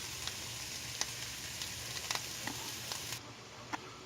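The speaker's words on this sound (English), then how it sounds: "cabbage and the carrots cooking together. I'm cooking on medium heat until the cabbage is kind of like soft and floppy" Cabbage and carrots fry in a pan over medium heat, giving a steady, soft sizzle with occasional faint pops and stirring clicks and no voices.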